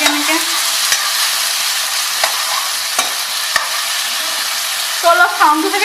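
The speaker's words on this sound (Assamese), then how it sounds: "এতিয়া বিলাহীখিনি অলপ ভাজি থাকোঁ এনেকৈ" Chopped tomatoes fry loudly in a hot pan for Maggi noodles, a continuous bright sizzle broken by sharp scraping clicks of a spatula stirring, with bubbling spatters near the end.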